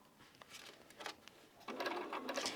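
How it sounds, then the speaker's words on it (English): A sewing machine stitches quilt pieces made from half-square triangles, its quick needle chatter running in short bursts and then a steadier, faster whir, close up and fairly quiet. "Now let me sew just one to see how it's going to come out."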